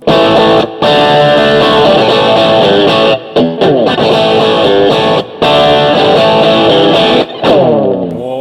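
An electric guitar plays distorted chords through a BOSS OD-1 overdrive model on a BOSS GT-1, loud and sustained, with brief silent breaks between strummed phrases.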